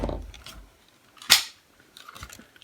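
A modded Nerf crossbow fires a Boomco dart: one sharp, close snap standing out after some quiet handling noise, followed by a few lighter clicks.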